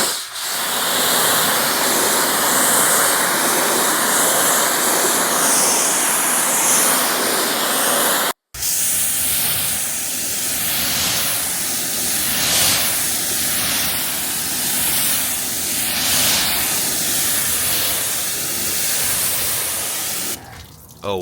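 A steady broadband spray of water from a hose hisses continuously as it rinses a car, briefly cutting out and then resuming, close and fairly loud.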